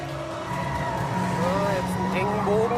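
Manhart MH3 tuned car accelerating hard out of a tight bend on a track, engine note rising steadily under continuous close talking, with light tire scrub.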